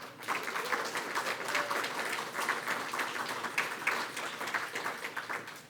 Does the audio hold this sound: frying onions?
no